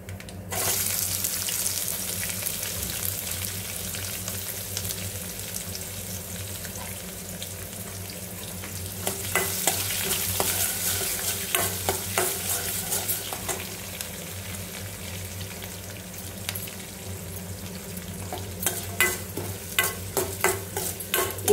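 Onions fry in a pan for tomato curry, giving a steady close sizzle under a low kitchen hum, later broken by clicks and scrapes of stirring.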